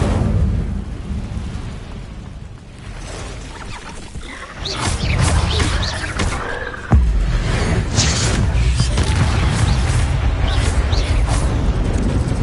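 Incendio fire spell cast in a video game, a loud fiery burst with a booming crash at about seven seconds and sustained roaring flame and crackle afterward.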